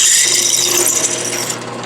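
Drill bit just over 5/16 inch boring through metal for a control-arm gusset, a steady high whine with grinding scrape held loud and close for under two seconds, easing slightly near the end.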